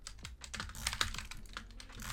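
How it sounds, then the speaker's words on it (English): Rapid butterfly clicking on a wireless Model O gaming mouse during a game, a dense, fast, uneven patter of sharp plastic clicks, close up and without speech. "the highest CPS I can reach with butterfly clicking is like 20 CPS on this mouse."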